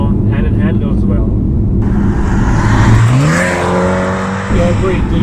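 A BMW X2 M35i with a 2-liter turbo four and four-wheel drive revs hard, its engine note climbing steeply in pitch as it accelerates. The sound is loud and close, with people talking over it.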